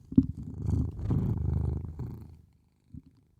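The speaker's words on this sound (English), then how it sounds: "You want to purr people out of here, huh, buddy?" A cat purring close to a microphone, a rough low rumbling purr lasting about two seconds, then a brief soft bump.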